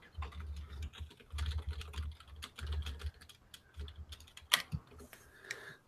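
Typing on a computer keyboard, with a steady patter of soft, close key clicks running through a quiet room and a brief sharper tap near the end.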